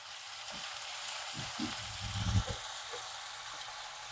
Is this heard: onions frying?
yes